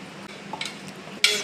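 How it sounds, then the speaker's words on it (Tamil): Food frying and being stirred in a pan while making mango payasam, a soft continuous sizzle with brief scraping stirs and a louder burst of sizzling near the end. "கொஞ்சம் சாஃப்ட் ஆகிற வரைக்கும் அப்படியே ஜஸ்ட் ஃப்ரை பண்ணி விட்டுக்கோங்க"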